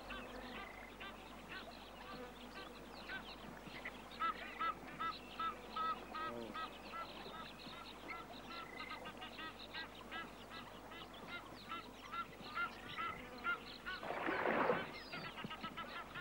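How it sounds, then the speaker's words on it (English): An Egyptian goose honks at a waterhole in repeated nasal calls, with other waterfowl calling around it and a louder burst of honking near the end, all moderately distant. "The Egyptian goose spots the danger."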